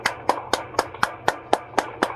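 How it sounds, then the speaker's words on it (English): A group claps hands in a steady beat to a children's movement song, nine sharp, evenly spaced claps in quick succession, fairly close and loud over a faint music bed. "Everybody clap your hands."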